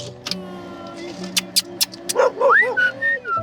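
A stray farm dog whimpers and yips in a few short, high, rising whines, close by and fairly loud, over steady background hum.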